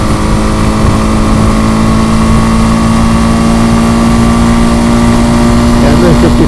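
A BMW G 310 GS motorcycle engine holds a loud, steady drone in fourth gear on a backroads ride, mixed with constant wind rush and a rider talking now and then.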